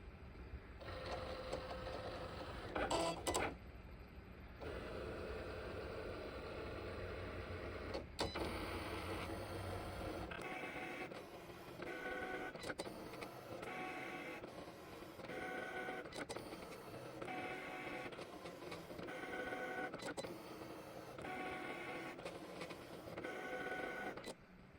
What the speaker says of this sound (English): we are going to click the little Cricut icon and let it make it.